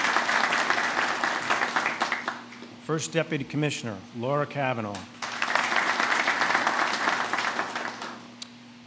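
Applause from a crowd at an FDNY street renaming ceremony bursts out in sustained rounds, breaking off while a man announces names over a public address system, then swelling again.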